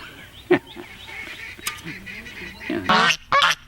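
Geese honk in short, loud bursts, with several sharp calls near the start and clustered honks toward the end, over quieter background sounds.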